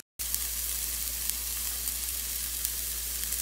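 Finely chopped onion sizzles steadily in a hot pan, a close, even crackle of frying that continues without a break.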